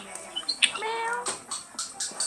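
A person's voice imitates a cat's meow, with several short mewing calls and squeaky tones spread over a couple of seconds at moderate, fairly close level, with no plain talk.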